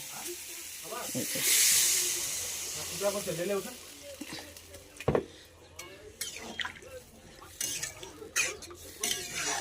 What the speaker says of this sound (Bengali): এবারে আমি দিব এর মধ্যে জল।